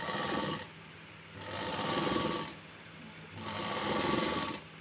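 A sewing machine stitches the back fold of a garment in two close bursts of steady whirring, separated by short quieter pauses.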